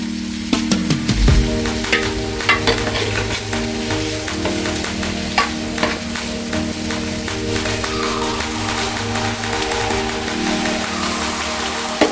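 Jackfruit stirred in ghee in a heavy uruli while cooking payasam, giving a steady close sizzle with frequent scraping and clacking strokes throughout, no voices.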